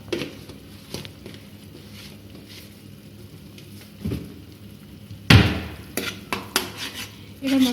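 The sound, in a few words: stirring spice paste for pabda fish jhal in pan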